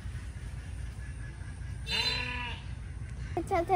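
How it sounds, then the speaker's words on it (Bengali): Goats out by a bridge in the countryside bleat twice, the first a drawn-out cry midway and the second a shorter wavering call near the end, fairly close over a low steady rumble. "ছাগলগুলো"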